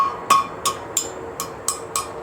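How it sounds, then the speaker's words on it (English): A heavy forging hammer strikes a hot steel curl on a drive hook six times in a steady rhythm, each close, ringing metallic blow decaying quickly. "I'll be able to hammer a little bit on that curl now that it's colder."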